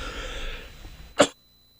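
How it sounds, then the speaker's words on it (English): A single sharp cough on a radio call-in show, close and abrupt, following a brief stretch of quiet background sound, then silence. "Clearly I'm starting to cough"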